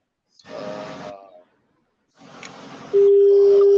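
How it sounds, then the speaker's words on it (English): A WhatsApp call being placed on a phone: two short bursts of electronic calling sound separated by silence, then a loud, steady single-pitched tone that continues to the end. "I'm doing WhatsApp calling now."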